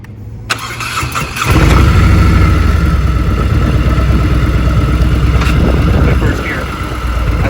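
A heavy cruiser motorcycle revs up and pulls away in first gear, a loud, steady engine rumble close by that eases off toward the end.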